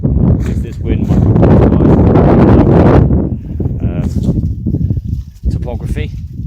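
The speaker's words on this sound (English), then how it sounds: "This wind could be fluking around this hill, so it's not actually coming from the southeast." Gusty wind blows across an exposed hilltop outdoors, loud and buffeting against the microphone for the first few seconds, then easing into lighter rushing gusts.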